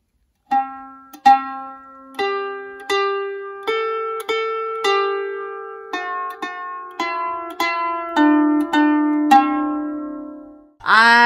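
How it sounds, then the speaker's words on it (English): A lyre plucked with a pick, individual bright notes ringing one after another in a slow melodic line with sustained harmonics, close and clear with no talking. "there are people who use the pick to play the lyre"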